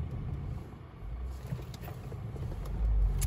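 A BMW E90 sedan's engine running rough, like a truck, on a road trip, heard as a steady low rumble from inside the car, swelling louder near the end, with no talk.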